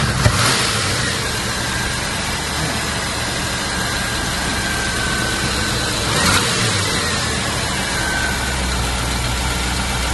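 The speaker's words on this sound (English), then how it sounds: "Now when I revved it, it would die." A Range Rover Classic engine runs loud and close, mostly idling, with a brief rise in revs partway through before settling back.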